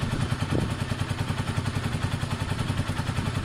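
Yamaha XJ600 motorcycle engine idling steadily right after startup, a close, even low-pitched pulsing with a brief clatter near the start, continuous throughout.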